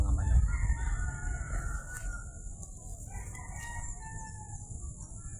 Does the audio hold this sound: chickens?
yes